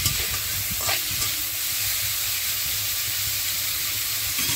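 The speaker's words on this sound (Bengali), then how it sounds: "সবজিগুলো আমি ভালো করে ভেজে নেব" Vegetables frying in hot oil for homemade fried rice, a continuous loud sizzle and hiss with a few scraping stirs early on, close and steady with no talking.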